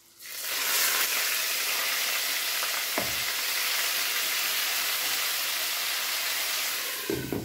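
Tomato paste sizzling with golden-brown onions in a hot pan while making chana pulao, a steady loud frying hiss with a couple of brief stirring scrapes.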